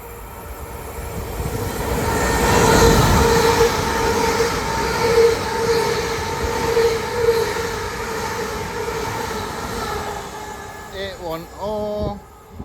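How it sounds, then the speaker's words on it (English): An LNER passenger train rumbles through Durham station at speed with a steady roar that slowly fades, followed by a short chime from the station announcement system. "Next service to pass through is LNER service after London King's Cross."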